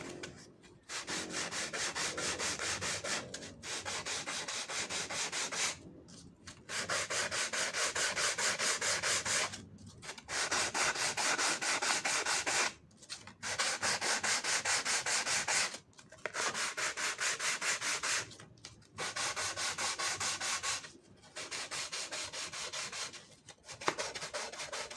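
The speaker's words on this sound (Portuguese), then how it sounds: "Aqui eu estou lixando um dos lados de cada uma das águas do telhado para que o encaixe fique certinho." A wooden roof panel for an HO-scale model railroad building is sanded by hand, long steady rubbing strokes repeated in a regular rhythm, close and alone with short pauses between passes.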